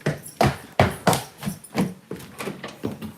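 Someone knocks on a home door in a rapid series of close, firm raps, about a dozen hits at irregular spacing, with no talk.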